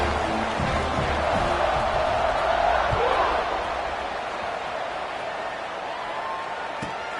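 Stadium crowd noise in the football video game NCAA 26, a dense, steady roar that stays loud throughout and eases slightly toward the end, with no commentary heard over it.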